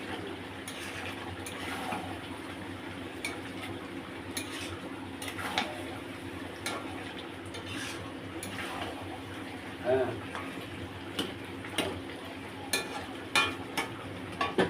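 Cashew nuts stirred in a frying pan with chicken cooking, scattered scraping clinks of a spoon against the pan over a soft sizzle, with a voice talking throughout.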